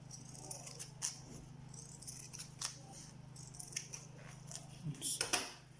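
Scissors cutting glued sandal material for a handmade basketweave slide sandal, giving a series of faint, close snips and crunches over a low steady hum.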